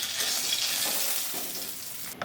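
Khoka fish frying lightly in hot oil gives a loud, continuous sizzle and crackle that fades a little toward the end, followed by a short metallic clink.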